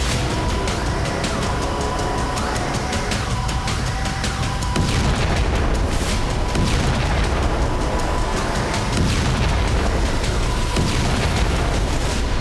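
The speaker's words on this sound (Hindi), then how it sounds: "हमास की सुरंगों में बड़े बड़े बम फिट करके उन्हें तबाह कर दिया" Large bombs blow apart Hamas tunnels in Gaza, heavy booms landing one after another over a dense, continuous rumble, with repeated strong thuds throughout.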